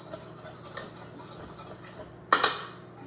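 Flour, salt, sugar and warm milk are mixed in a bowl, giving soft repeated scraping and stirring sounds with light clinks of a utensil, followed by one sharper, louder knock near the end.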